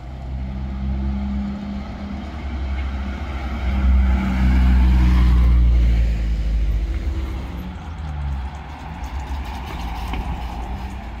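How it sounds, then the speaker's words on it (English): A bus pulls up on a Russian street, its engine rumble swelling to a low roar mid-pass and then easing off, steady and fairly close with no talk. "The bus is coming after just 5 minutes after previous bus,"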